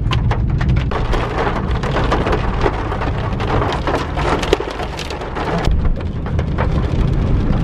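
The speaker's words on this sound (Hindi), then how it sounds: "अभी बहुत ज़्यादा तेज़ ओलावृष्टि हो रही है, आवाज़ आ रही होगी आपको पीछे से" Heavy hail hammers a car on the mountain road to Manali, a dense, loud, continuous clatter with sharper cracks scattered through it, close and unbroken for several seconds.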